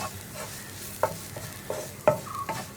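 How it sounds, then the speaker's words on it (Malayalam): Spice powders, including garam masala, fry for a green peas curry while a spoon stirs them. Several separate scraping strokes sound against the pan over a quiet, steady sizzle. "ഇത്രയും ചേർത്തിട്ട് ഈ പൊടികളുടെ റോ ടേസ്റ്റ് മാറി വരുന്നത് വരെ 1 മിനിറ്റ് ഒന്ന് ഇളക്കി കൊടുക്കുക."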